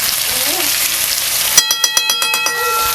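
Half a spoon of turmeric powder hisses and sizzles in hot oil for vegetable biryani, with a voice briefly over it. Then a spoon raps the pan about eight times in a quick clanging series.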